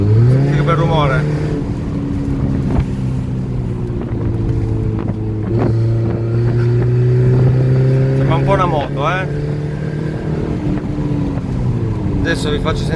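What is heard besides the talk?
car engine revving with Record Monza exhaust valve open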